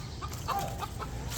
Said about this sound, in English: This bird's very upset wants me gone.